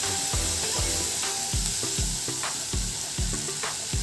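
Roughly chopped medium tomatoes sizzle steadily in a hot pan while a spoon mixes them, giving a loud continuous frying hiss punctuated by regular scraping thumps about twice a second.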